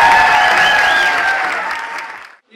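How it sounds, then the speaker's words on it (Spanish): An audience at a third-anniversary dinner in Bogotá applauds loudly and close by, a dense burst of clapping that gradually fades away over a couple of seconds. "Señor Peter Lee, un fuerte aplauso, por favor."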